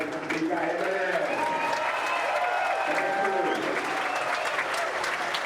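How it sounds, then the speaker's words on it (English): Steady crowd applause at a professional 9-ball pool championship final for the runner-up, full and even throughout, with voices talking over it. "that was a sympathy applause for Mika"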